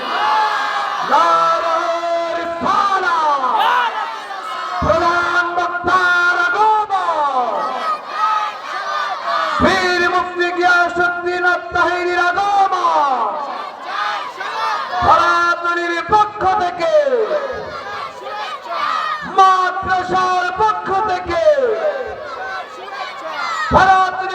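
A large crowd at a religious gathering chants the takbir in repeated loud, unified bursts, a leader's call answered by many voices shouting in rhythm, several rounds over the stretch.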